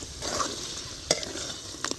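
Baim fish being stir-fried in spiced oil in a village kitchen, a quiet steady sizzle with a few sharp clinks of a utensil against the pan.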